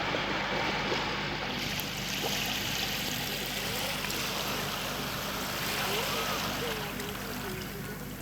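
Sea waves washing and churning steadily just below, a constant broad rushing wash of water with no breaks, loud and close.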